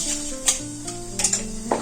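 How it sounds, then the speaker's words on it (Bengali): Fenugreek seeds fry in a pan with a low sizzle, while a spoon clinks and scrapes against the pan in short bursts a few times. Soft tonal background hum underneath, close and without voices. "মেথি ভাজা হয়ে গেছে"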